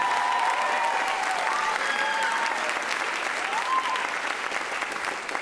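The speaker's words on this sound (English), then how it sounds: "So big round of applause for our" Steady, dense applause from a high school spring band concert audience, continuous and fairly loud throughout with a few faint whistles and tones over the clapping.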